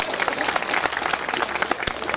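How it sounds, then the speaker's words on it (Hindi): Loud, dense applause from an audience at a Hindi poetry gathering (kavi sammelan) in Khariar Road, Odisha, a steady wash of many hands clapping close and continuous, with a faint voice underneath. "एक बार जोरदार तालियां बजाकर उनके लिए।"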